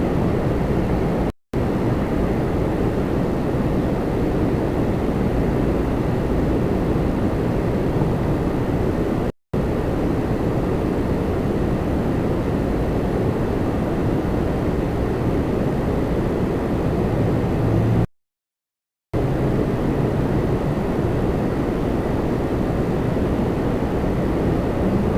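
An American Airlines Boeing 737 jet departing Toronto Pearson, a steady loud broadband engine roar that holds for the whole stretch, interrupted only by a few brief dropouts.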